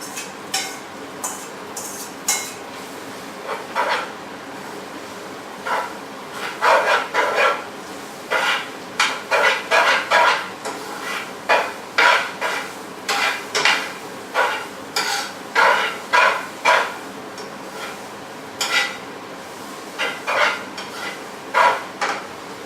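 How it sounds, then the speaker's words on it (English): Pad Thai noodles stir-fried in oil in a pan, with repeated scraping and clanking of a utensil against the pan in uneven bursts over a steady low sizzle, close and loud. "I'm going to go ahead and stir fry these."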